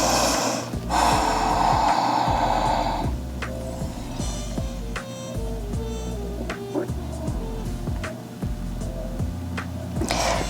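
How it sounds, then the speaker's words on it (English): Deep, slow breaths drawn in and let out during a low-impact yoga stretch, close and steady, repeating through the stretch with faint soft clicks and movement in the background. "So breathing deep here."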